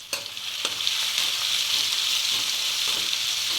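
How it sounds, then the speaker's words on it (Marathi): Garlic sizzles steadily in hot oil in a pan while a vegetable dish is being cooked, with a continuous close hiss and a few faint stirring knocks and no talking. "आता टाकते लसूण बघा."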